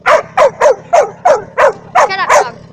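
A dog barks close and loud in a steady series of about nine sharp, evenly spaced barks, the last few rising into higher, whining yips.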